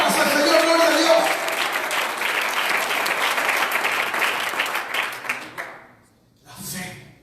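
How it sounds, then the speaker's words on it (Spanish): A church congregation claps in praise, loud and sustained rhythmic applause that fills most of the moment before dropping away, followed by a short burst of crowd noise. "Dele palmas al Señor, gloria a Dios."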